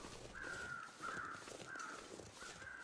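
Crows caw in The Long Dark video game, a faint, distant series of about four harsh, drawn-out calls spaced roughly evenly over a soft ambient background.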